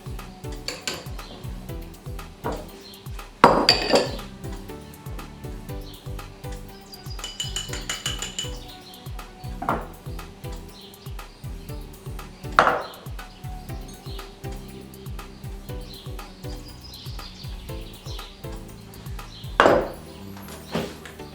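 Eggs mixed with butter and sugar in a bowl for chocolate cupcakes, rhythmic scraping and tapping of a utensil against the bowl with occasional louder clanks, close and alone.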